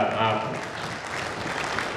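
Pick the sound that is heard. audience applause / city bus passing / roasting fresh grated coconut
audience applause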